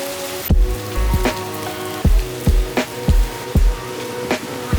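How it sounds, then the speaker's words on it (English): Rain falling in a city, a dense steady patter with repeated heavy drops striking a nearby surface in irregular knocks, loud and close, with no voices. "I'm gonna slap this on and then hopefully that'll protect the camera from the rain."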